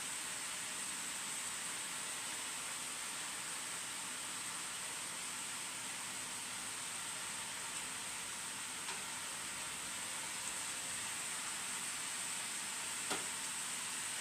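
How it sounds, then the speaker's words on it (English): Steady, hissing sizzle of vegetables frying in a pan, continuous and fairly loud, with a faint click or two near the end. "I feel like I'm shouting over the sizzling of the vegetables."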